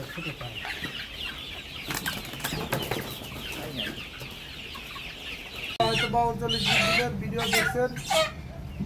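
Chickens on a farm cluck and squawk continuously, with a louder burst of calls in the final seconds; flapping wings are not clearly distinct, and a voice speaks over the birds.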